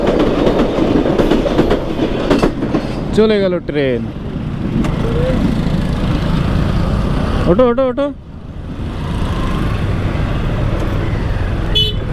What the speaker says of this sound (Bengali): ট্রেন আসলো তারপর পার হলাম